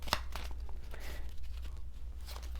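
A deck of cards is shuffled with some difficulty, giving soft papery riffles, slides and crinkles at close range and a sharp snap near the start, with no talking.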